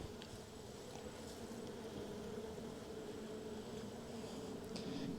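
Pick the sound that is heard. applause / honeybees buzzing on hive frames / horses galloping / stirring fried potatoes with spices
honeybees buzzing on hive frames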